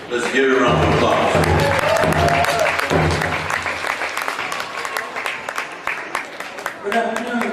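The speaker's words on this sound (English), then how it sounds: "Let's give it a round of applause." Audience applause at a Vietnam veterans' wacipi gathering, a loud burst of clapping from a crowd that gradually thins into scattered claps, with a voice over a loudspeaker heard beneath at the start.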